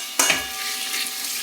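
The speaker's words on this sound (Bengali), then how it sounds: "এদিকে মশলা ভাজছি" Spices sizzle in hot oil for mutton kasha, a cumin and bay-leaf tempering with chopped onion and tomato, opening with a sharp utensil clink and stir, then a steady close crackle alone.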